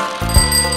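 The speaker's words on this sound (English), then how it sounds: "Bicycle." A bicycle bell rings once, a bright metallic ding with a lingering ring that carries on clearly to the end, heard alone with no talk.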